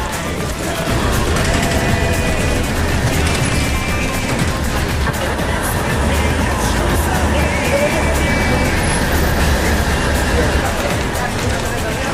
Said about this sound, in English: we catch a bus up Paseo de la Castellana and enjoy the sights more comfortably